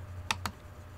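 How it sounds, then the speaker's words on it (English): Two sharp computer mouse clicks about a sixth of a second apart while moving through an online form, heard close and alone over a low steady hum. "then we click next until all of those circles are filled"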